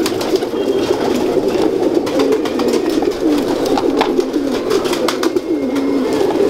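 A fancier's domestic pigeon coos in a steady, continuous low murmur, close and fairly loud, with no voices over it.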